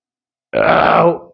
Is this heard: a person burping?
yes